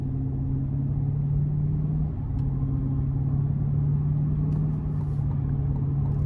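A 2024 Chevrolet Silverado 1500 LT Z71 with the 5.3 V8 and 10-speed automatic cruises along, giving a steady low engine drone and road rumble from inside the cab, with a slight dip around a smooth gear change.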